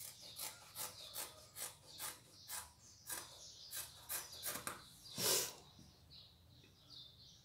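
Scissors snip through two layered pieces of denim for a child's skirt, a quiet series of short rhythmic crunching cuts about twice a second, with one louder snip near the end and no talking.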